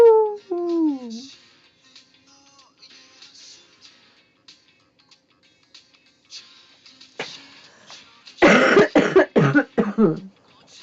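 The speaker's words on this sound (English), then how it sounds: "I'm sorry, my coughs are so loud." A person coughs loudly near the microphone in a short burst of several harsh, rapid coughs. A brief bit of speech comes early, then a long quiet stretch before the coughing.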